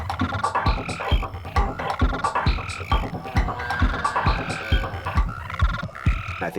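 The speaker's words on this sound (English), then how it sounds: "the wild pig-nosed frog" Wild pig-nosed frogs call in a dense, rhythmic chorus of repeated croaks and clicks, several voices overlapping up close with no talk.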